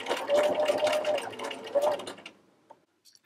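A sewing machine top stitches a fabric treat bag, running in a steady close whir for about two seconds before stopping, followed by a few faint clicks.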